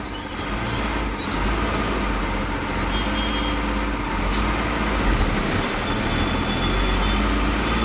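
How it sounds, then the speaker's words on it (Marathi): MSRTC Lal Pari bus pulls out of Mumbai Central at night, a continuous broad roar of engine and road noise heard from inside the cabin, steady and fairly loud with faint clunks. "आणि आपली बस जर्नी स्टार्ट झालेली आहे, नाईट बस जर्नी"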